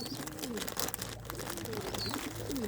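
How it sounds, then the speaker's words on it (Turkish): An old pigeon coos in soft, low repeated calls at close range, with faint chirps and rustling around it. "Bayağı bir yaşlı kuşum var"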